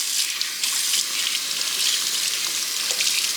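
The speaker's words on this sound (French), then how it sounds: "on va venir rincer" Tap water runs steadily as makeup brushes are rinsed under the stream, a continuous close splashing gush with slight fluctuations as the bristles move through it.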